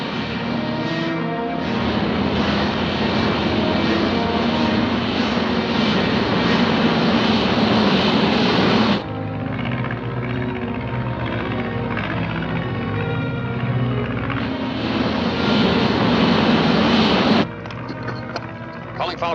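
A disc-shaped aircraft from a 1950 science-fiction film taxis and takes off with a loud, sustained engine roar that shifts in tone partway through and surges again before cutting off near the end.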